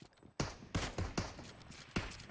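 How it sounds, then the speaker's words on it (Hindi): Rifle shots from a Kar98 in a shooting video game, five or six sharp loud cracks spaced irregularly over two seconds, each with a short ringing tail, close and with no talking. "मैं मार दूंगा शॉट"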